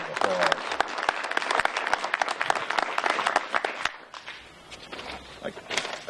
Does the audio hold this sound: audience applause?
yes